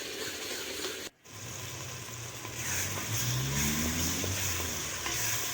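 Turnip leaves (gogji haakh) and tomatoes sizzle steadily in a pan, a continuous hissing fry that briefly cuts out and then grows slightly louder and fuller.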